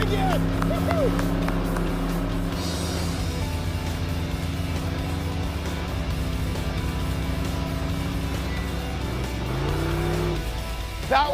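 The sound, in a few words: custom car engine running and driving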